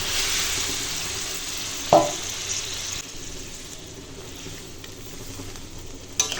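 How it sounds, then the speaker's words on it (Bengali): A spoon knocks against the pot once as fried pointed gourd is stirred into a ground cashew and poppy seed paste with water. A wet simmering hiss carries on at a moderate level, and a faint clatter comes near the end, with no voices. "ভালো করে মিশিয়ে দেবো"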